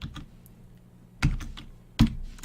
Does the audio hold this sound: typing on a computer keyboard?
yes